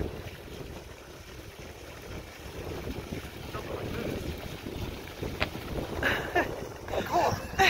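Cold wind blows across a pond outdoors, buffeting the microphone with a low, continuous rumble that grows gustier over time. Faint voices are audible toward the end.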